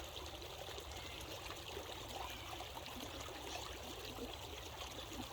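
Creek water flows over rocks at Warrandyte in a soft, continuous trickling babble, steady and moderately distant with no voices.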